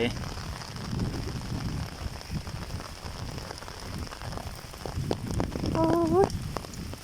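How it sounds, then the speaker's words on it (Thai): Heavy rain falls steadily outdoors, a dense hiss and patter on surfaces that continues throughout, with a voice speaking faintly in the background. "ฝนตกแบบนี้แหละ"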